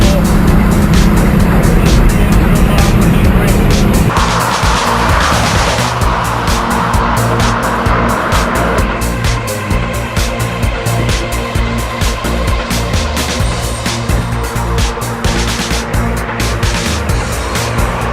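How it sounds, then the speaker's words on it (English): A Bugatti Grand Sport Vitesse roadster driving hard, loud engine roar with squealing tires and skidding, a shift in engine note partway through, close and sustained. "It's the new Bugatti Grand Sport Vitesse, and it is quite simply the fastest roadster in the"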